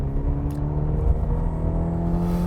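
2021 Cadillac CT5 with a 2.0 turbo engine accelerating in sport mode, heard from inside as a steady low engine drone and rumble with a faint whir, no talk over it.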